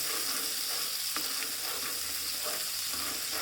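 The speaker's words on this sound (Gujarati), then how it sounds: "આદું આપણે થોડું છીણ્યું હતું એ પણ આપણે એડ કરી દઈશું પહેલાંમાં, જેથી કરીને તેલમાં સારી રીતે શેકાઈ જાય" Grated ginger fries in oil, producing a steady soft sizzle with a few faint crackles and light stirring sounds, close but quiet, with no voices.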